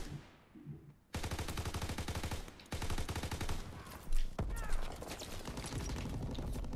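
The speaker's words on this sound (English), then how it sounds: "See, that's rapid fire." Rapid automatic gunfire from Call of Duty: World at War II, loud bursts of fast repeating shots in several long strings separated by short breaks, close and sharp.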